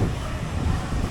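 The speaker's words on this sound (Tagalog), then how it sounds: "Sana mag-stop na yung hangin." Heavy, steady wind at the sea in Boracay after a storm roars and buffets the microphone in a constant low rumble, with no clear voices.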